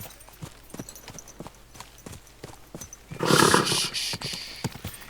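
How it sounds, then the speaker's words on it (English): In Kingdom Come: Deliverance II, a horse's hooves clop in a steady walking rhythm, followed by a loud, close neigh lasting about a second. "Easy. Good horse."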